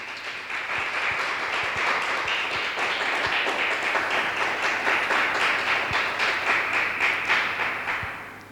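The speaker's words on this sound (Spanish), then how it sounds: "Le damos un aplauso al Señor." An indoor congregation applauds during a Spanish-language church service, a steady dense wash of clapping with a faint low hum beneath, lasting several seconds before tapering at the end.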